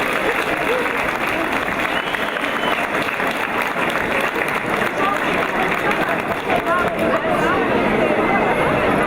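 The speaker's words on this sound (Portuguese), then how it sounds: "pedíamos a vós uma grande salva de palmas para toda esta gente" A large crowd applauds steadily and loudly throughout, a dense wash of clapping with some shouts and babble mixed in at a public gathering during speeches honoring volunteers.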